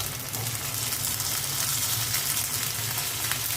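Dried and green chillies, nigella seeds and ginger-garlic paste sizzle in hot oil with a steady, dense crackling hiss that stays loud and even throughout, with no talking.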